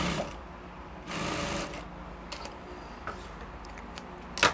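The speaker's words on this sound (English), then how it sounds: "then you're going to stitch together with 1/4 inch allowance" Sewing machine joining a dress back yoke to the bodice with a quarter-inch seam allowance, heard in a couple of short, moderately loud bursts of stitching separated by quiet handling sounds.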